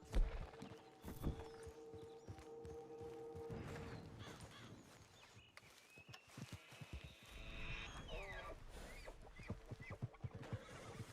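Horse hooves clopping in the Red Dead Online video game, a steady run of hoofbeats against an ambient outdoor soundscape with occasional sharper knocks and shifting background noise.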